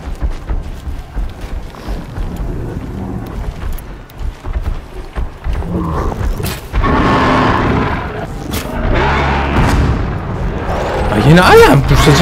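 Shock blast trap mines detonate in a video game battle against giant bear-like machine robots, with booming explosions and gunfire-like cracks bursting repeatedly over game noise while a person talks.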